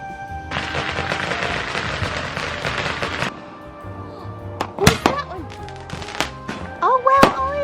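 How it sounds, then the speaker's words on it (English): Fourth of July fireworks go off in a dense crackling barrage of rapid pops for about three seconds, then a few louder single bursts and whistles follow, with family voices talking over the scene. "That's what I call a real firework."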